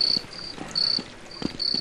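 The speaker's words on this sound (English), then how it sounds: "Yeah, there's frogs." Night-time ambience in the video game They Hunger: frogs croak and chirp in a steady, repeating high trill, several short bursts with soft thuds between them, moderately close.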